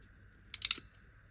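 A crimping tool clamps a metal ferrule onto stripped copper wire in a workshop, giving a brief cluster of sharp clicks and snaps lasting about a quarter second, close and alone.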